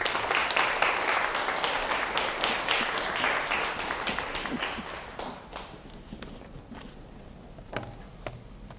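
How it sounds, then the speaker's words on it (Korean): An audience at a church music symposium applauds to welcome a speaker: a full round of clapping that thins after a few seconds into scattered, closer individual claps. "한번 박수로 환영하십니다"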